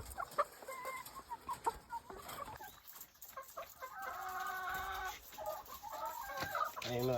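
Chickens on a small poultry farm cluck and squawk in overlapping bursts throughout, with a few sustained calls, close and fairly quiet, with no talk.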